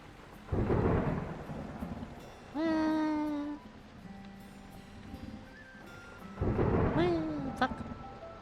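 A stormy spell in a video game brings steady rain with two deep thunder rumbles, early and near the end, alongside brief tonal game sound effects.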